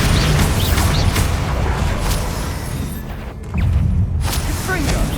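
Rumbling blasts from the Bombarda explosion spell in Hogwarts Legacy, with booming impacts and crashing debris beneath battle noise and voices. A brief lull is followed by another surge.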